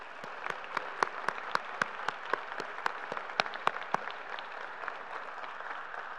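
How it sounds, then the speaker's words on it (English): Applause at a graduate commencement ceremony, heard at a distance as a soft, steady wash of a large crowd clapping, with sharper individual claps rising nearer the front. "well-deserved round of applause."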